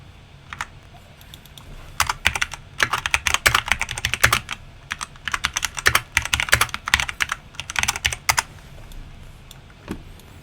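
Fast typing on a computer keyboard, dense bursts of sharp key clicks in uneven clusters for about ten seconds, close and loud over a low background hum.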